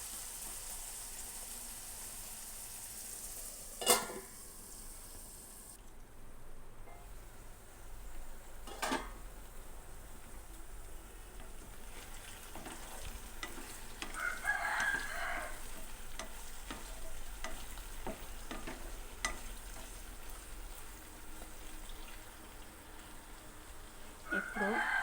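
Brinjal curry cooks in a pan, a low, faint sizzle broken by occasional clinks and scrapes of a spoon stirring, with scattered sharp knocks and a few faint voices.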